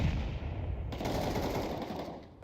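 Counter-Strike 2 gunfire rattles in dense automatic bursts, loud and continuous, then fades slightly at the end.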